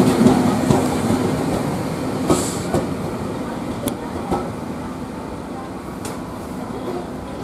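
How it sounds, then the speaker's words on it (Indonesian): KRL commuter train pulling into Jakarta Kota terminal station, a continuous close rumble of wheels on rail with scattered clanks and squeals as it slows. "Kereta sampai di stasiun akhir Jakarta Kota."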